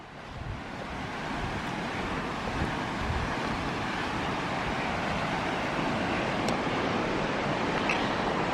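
A creek rushes over rapids in a steady, continuous roar of flowing water that swells slightly and holds without any talking.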